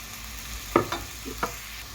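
Peppers and onions stirred in a pan, a soft sizzle under two or three quick scraping strokes of a utensil within two seconds.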